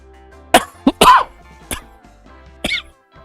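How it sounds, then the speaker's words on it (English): A person coughs several times in short harsh bursts with a throat-clearing sound, close to the microphone and loud against near silence. "blooming cough."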